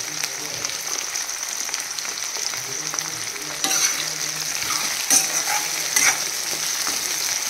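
Potatoes and tomatoes sizzle steadily in a hot frying pan, with a constant hiss and a few louder clinks and scrapes of stirring partway through.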